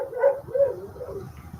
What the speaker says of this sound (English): my dog Rex.